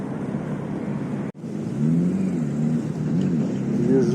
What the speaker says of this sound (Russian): Тут, кстати, большегрузные машины ездят.